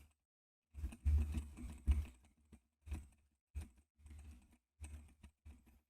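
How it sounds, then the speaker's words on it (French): Close-up typing on a computer keyboard, captured by a desktop microphone, comes in irregular bursts of rapid keystrokes separated by short pauses, with no voice over it. "je tape sur le clavier en même temps que je parle"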